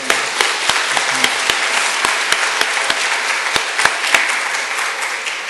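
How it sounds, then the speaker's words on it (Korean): A church prayer-meeting congregation applauds steadily throughout, a dense, even wash of clapping with a few sharper individual claps standing out. "다시 한번 박수."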